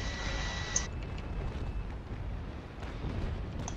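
Ship cannon fire from a naval battle in the video game Naval Action booms as a muffled, low-heavy rumble. A brief sharp pop opens it and a sustained roar decays across the clip, with a faint tone fading early.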